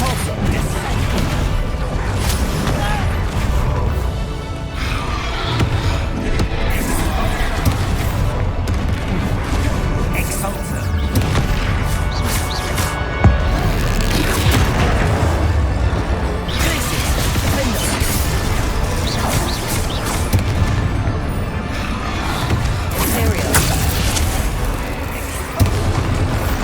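Spell blasts in the Hogwarts Legacy video game, a dense run of booming, crashing impacts and magical whooshes layered over game music, with a voice calling out over the steady loud action.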